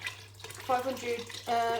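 Tap water pouring into an emptied passata carton to refill it for a pressure-cooker bolognese, a steady running sound with a person talking over it.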